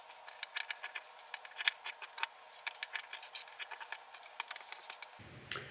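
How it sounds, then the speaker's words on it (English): Quiet, close snipping of scissors through fabric, a run of quick irregular cuts with faint rustling, ending in a brief shuffle. "square it up with this shorter piece of fabric and my scissors"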